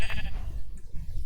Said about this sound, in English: I accidentally came across this naturally spawning pink sheep.